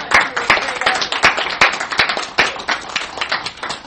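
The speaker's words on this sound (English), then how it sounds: "can we give her another round of applause" Audience members at a veterans coffee house gathering clap loudly and close by, a brisk round of applause with distinct individual claps continuing steadily throughout.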